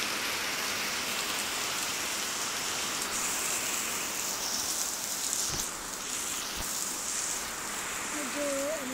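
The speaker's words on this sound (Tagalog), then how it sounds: "ang lakas talaga ng ulan" Heavy typhoon rain pouring steadily and loudly on surfaces, a dense continuous hiss throughout, with a couple of sharp knocks and a brief voice near the end.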